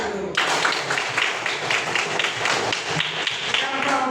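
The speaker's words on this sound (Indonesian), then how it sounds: "Bagus, Pak, kita tepuk tangan dulu." Schoolchildren in an elementary classroom clap their hands together in a rapid, rhythmic burst of applause, close and loud, continuing steadily for several seconds.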